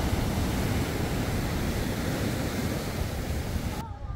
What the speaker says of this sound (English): Not that this would be a great place because of all these gigantic waves